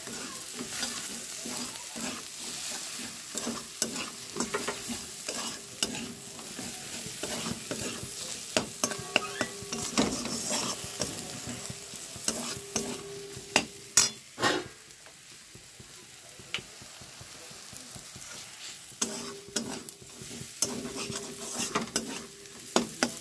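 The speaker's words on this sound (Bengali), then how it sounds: "এটাকে আমরা ভালো করে নেড়ে নেব" Pav bhaji vegetables and spice masala stirred and fried in a pan at home: a constant low sizzle broken by repeated scraping and clattering strokes of a spoon against the pan, close and moderately quiet, with no talking.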